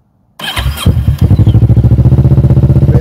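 A motorcycle engine starts loud and close: after a brief silence it cranks for a moment, catches, and settles into a steady, rapid thumping idle.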